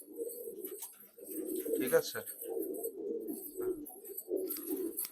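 A breeding pair of pigeons, a Reghdar and a Madras, coos repeatedly in low rolling bursts close by, with a brief spoken question cutting in near the middle.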